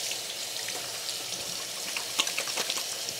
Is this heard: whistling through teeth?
no